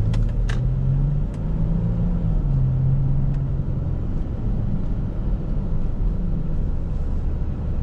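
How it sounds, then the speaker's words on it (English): A 2013 Mercedes diesel car accelerates with a steady, loud engine and road rumble from inside the cabin, a low tone rising and falling in pitch over several seconds with a few faint clicks. "Car's acceleration as well is really quick"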